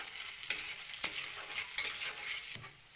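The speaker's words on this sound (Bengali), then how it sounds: "আলু বেগুনটা একটু হালকা মতো ভাজা হয়েছে" Sliced potato and eggplant frying in hot oil in a wok, seasoned with salt and turmeric: a steady close hiss with a few sharp clinks of a utensil against the pan, no voices.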